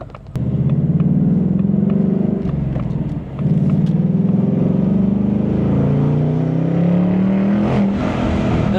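A Ford Mustang Dark Horse engine accelerates hard on the highway, a loud, close rising growl that dips briefly during a gear shift, then climbs again in steady pitch.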